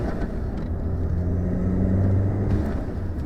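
Steady low exhaust drone from a VW MK7 Jetta GLI with its turbo muffler deleted, a continuous rumbling hum that swells slightly mid-way, close and fairly loud with no talking.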